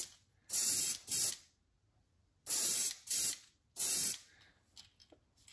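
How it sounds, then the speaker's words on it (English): A spray can puts fluorescent hot pink paint on the belly of a fishing crankbait in several short, close hissing bursts, with quiet pauses between them. "I'm just pretty much just going to spray the belly down with it."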